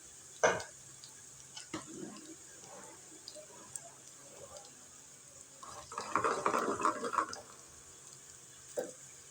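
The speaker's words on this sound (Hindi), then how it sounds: "लहसुन जब फ्राई हो रहा होता है, ब्राउन हो रहा होता है" Garlic being stirred as it fries and browns in a pan for a dal tadka: quiet, scattered scrapes and clinks of a spoon against the pan, with a denser flurry of stirring midway and a faint sizzle beneath.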